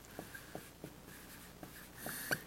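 Pen or marker strokes writing out a law of sines equation, a series of short scratchy taps spaced about every half second, faint and close, ending in a slightly louder squeak.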